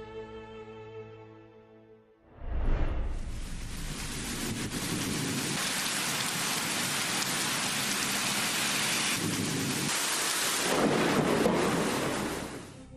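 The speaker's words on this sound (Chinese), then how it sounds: "德阳市下着瓢泼大雨" A torrential downpour falls at night in Deyang city, a loud, dense, unbroken roar of rain that begins abruptly after a quiet start and holds steady to the end.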